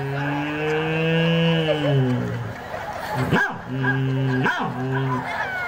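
A dog barks twice in quick sharp bursts close by, surrounded by loud, continuous human voices.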